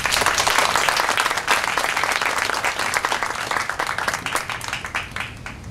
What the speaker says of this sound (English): So a round of applause for Kathy.